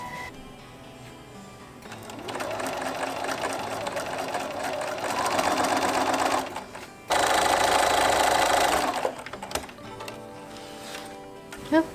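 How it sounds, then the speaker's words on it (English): A sewing machine runs steady bursts of rapid mechanical stitching, sewing two straight lines through a fabric project bag, with a brief pause between runs. "I'm just gonna sew 2 straight lines so I make sure this stays in place"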